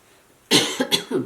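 A short burst of close, harsh coughing, three or four quick coughs in a row after a moment of quiet.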